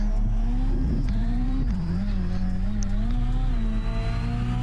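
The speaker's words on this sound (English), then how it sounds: "This Rallycross car just has so much grip on the dirt, and even more so when it comes onto the tarmac." A rallycross car driven hard across a mixed dirt and tarmac circuit, its engine roaring loud and steady throughout, pitch rising and dipping as it accelerates and lifts through the turns.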